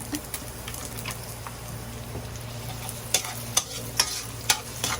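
Garlic sautéing in a little oil gives a soft, steady sizzle, broken by several sharp spatula scrapes and taps against the pan that come closer together toward the end.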